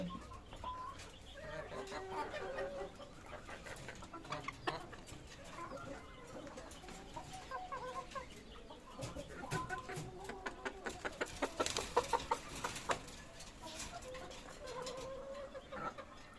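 Hens and roosters of a Bangladeshi laying flock cluck steadily, with repeated sharp calls rising into a busy burst midway, close and fairly loud among general farmyard noise.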